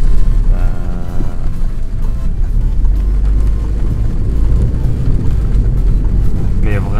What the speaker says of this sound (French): Là si je mets une bonne accélération on va attendre quand même pas mal le moteur.